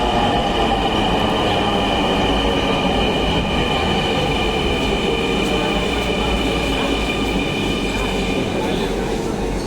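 A metro rail train pulls in, its steady rolling rumble and the hum of the cars filling the space continuously, with a high electric whine above it, loud and close throughout.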